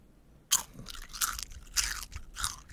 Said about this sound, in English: Ooh, that it was sounded wet. Like an open mouth wet crunch.